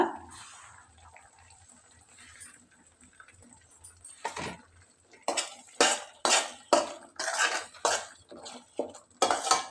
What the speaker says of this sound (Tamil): உப்பு சேர்த்து நல்லா கலந்துக்கோங்க